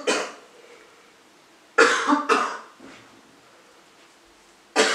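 A sick child coughs in short harsh bursts: one at the start, a quick pair near the middle and another at the end, with quiet gaps between.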